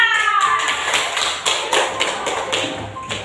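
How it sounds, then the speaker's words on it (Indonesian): Children in a classroom clap in unison for a student, a loud rhythmic run of close, sharp claps repeating at a steady beat. "Beri tepuk tangan untuk Zakira."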